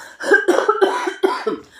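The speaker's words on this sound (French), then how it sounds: "je vais tousser" Someone coughs several times in a row, a close, harsh burst of hacking coughs from a person who has been ill, with no talk around it.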